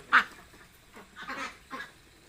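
Large, market-ready ducks of about 3.5 kg on a duck farm give four or so separate quacks spaced irregularly over a couple of seconds. They are fairly quiet, and no one speaks.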